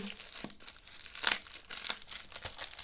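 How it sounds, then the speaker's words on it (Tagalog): Thick packing tape being torn open on a sealed package: a few crinkly ripping bursts with plastic crackling in between, close and moderately loud, with no voices. "Grabing packing tape nila ho. Diyos ko, hirap."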